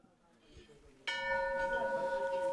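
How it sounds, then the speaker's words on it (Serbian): A bell at the Kunjapuri Hindu temple on a Himalayan summit is struck once, ringing out clearly with a long, sustained metallic tone after faint background murmur. "Vidimo i zvono."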